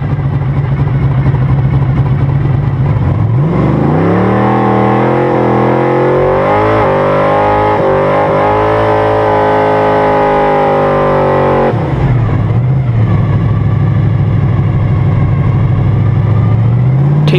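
A Chevy Malibu engine idling with a loud rumble, then revving up and holding a higher pitch for several seconds before dropping back to a rough, close idle.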